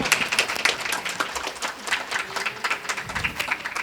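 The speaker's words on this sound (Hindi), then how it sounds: "एक बार तालियां बजा के खुद को भी मोटिवेट करते रहिए।" Audience clapping at a Hindi poetry and song recital, a steady, dense patter of many hands filling the hall without a break, with no voices over it.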